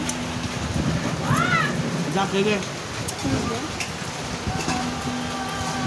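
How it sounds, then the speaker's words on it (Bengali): Heavy rain pours down as a steady, moderately loud hiss, with faint voice-like sounds briefly rising above it. "তখন কিন্তু খুব জোরে বৃষ্টি নেমে গেছে"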